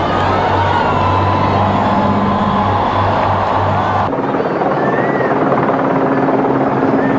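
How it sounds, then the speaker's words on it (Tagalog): Royal Air Force aircraft pass over during a ceremonial fly-past at a royal wedding, a loud, steady roar of engines and rotor-like thrum that shifts in pitch midway as the aircraft move overhead. "Pinundan ito ng fly past, ceremonial air show na pinangunahan ng Royal Air Force."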